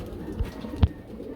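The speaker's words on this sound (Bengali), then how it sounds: "প্রতিটা খাঁচায় খাঁচায় কবুতর, প্রতিটা খাঁচায় খাঁচায় কবুতর।" Caged pigeons on a large fancy pigeon farm give two short, low coos about half a second apart over a quiet background.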